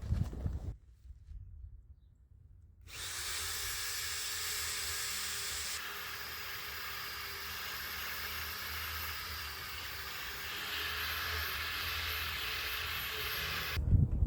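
A foggy car headlight is wet-sanded by hand with 1000 grit sandpaper, giving a steady, close, broadband scrubbing hiss that runs unbroken for about eleven seconds after a short quiet start.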